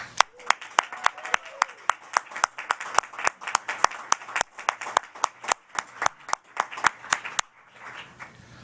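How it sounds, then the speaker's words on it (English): At a graduate hooding ceremony, hands clap in a regular, sparse rhythm of distinct sharp claps, moderately close, before stopping abruptly near the end. "One more round of applause"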